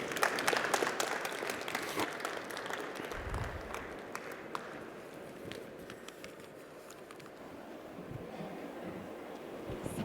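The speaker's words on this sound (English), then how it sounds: "Let's give him a big, big round of applause, ladies and gentlemen." An audience at the MEWA 2026 event in India applauds a speaker, Prof. Gourav Vallabh, with steady, dense clapping that holds for about ten seconds at moderate volume, with no voices over it.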